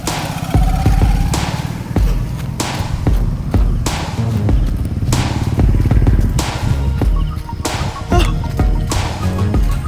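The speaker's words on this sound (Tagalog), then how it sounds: "Marami na sasakyan na naglalabasan." Vehicles and motorcycles passing on a road during an outdoor jogging session, a loud steady engine rumble with repeated thumps and sharp cracks.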